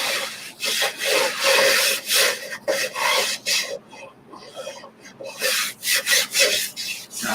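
Close, rhythmic rubbing and scraping as a chalk-transfer silk screen is burnished onto a wooden garden flag, with short uneven strokes and brief pauses, no talk.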